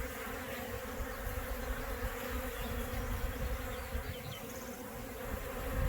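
Many honey bees hum at a feeder of candy cane syrup in a continuous, dense buzz close by, the drone holding steady and swelling slightly toward the end.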